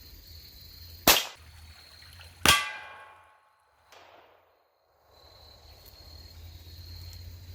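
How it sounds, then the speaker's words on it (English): Two sharp, loud shots from an Advantage Arms .22 LR conversion pistol fired outdoors at a 25-yard range, the second ringing with a metallic clang, then quiet with faint insect chirping. "here we go, second shot."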